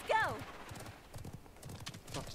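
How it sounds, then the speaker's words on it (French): A horse in the video game Realm Royale whinnies once at the start, then its hooves clip-clop steadily and close at a walking pace, with faint talk underneath. "Donc là, il y a mon cheval."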